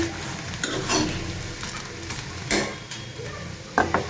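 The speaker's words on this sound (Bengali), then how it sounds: "আর এদিক দিয়ে চাপা ভাজতেছি" Steady sizzling of chapa dried fish frying in a pan, with a few scraping and stirring clatters of a utensil at intervals.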